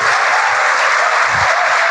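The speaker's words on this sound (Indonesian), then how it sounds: "kasih tepuk tangan buat Pak Andy." A crowd at an Indonesian Marine Corps event claps in a dense, steady burst of applause, loud and sustained for the whole short moment.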